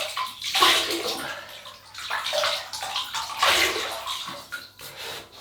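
Water runs from a tap and splashes as a man wets his face before a shave with a vintage Gillette open-comb razor, a steady broadband rush rising and falling in two main surges.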